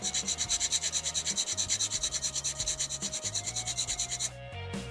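Rhythmic back-and-forth filing on a vintage 1/60 Bandai plastic model kit part, a steady rasping stroke about twice per second, close and fairly loud, with no talking.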